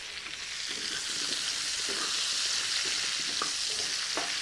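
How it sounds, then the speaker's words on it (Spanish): Potatoes and bacon fry on a disco, a steady bright sizzle with scraping stir strokes and occasional small pops, close and continuous. "Vamos a freír hasta suavizar la papa"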